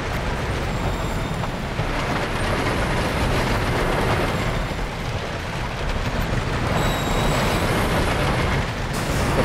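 A roller coaster train runs steadily along its track in the Planet Coaster park game, a continuous loud rumbling clatter with no pauses.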